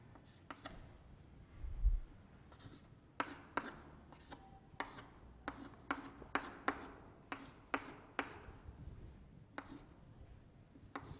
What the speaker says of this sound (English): Let me write it here.